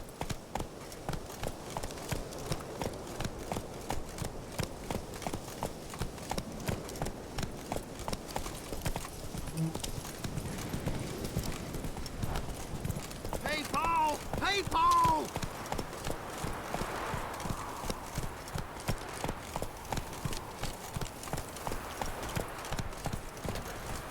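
Roach, a horse in The Witcher 3, clip-clops along at a steady walking rhythm for the whole stretch, the hoofbeats close and even, with faint voices and game ambience underneath.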